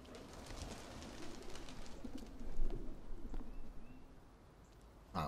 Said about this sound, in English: That was the bird.